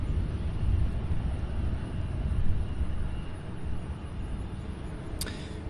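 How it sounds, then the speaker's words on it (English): Two private jets taxi one after the other at SDF airport in Louisville, giving a steady, broad engine rumble from a distance that carries on throughout, with no one talking. "Also have two private jets taxiing, one after the other."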